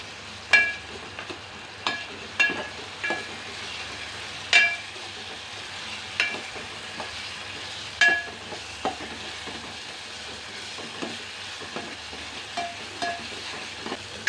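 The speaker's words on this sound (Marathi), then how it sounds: "आता आपण हे मस्त भाजून घेऊया" Green masala paste roasts in a pan with a soft sizzle underneath, broken by a dozen or so sharp metallic scrapes and clinks of a spoon against the pan at irregular intervals. No one speaks.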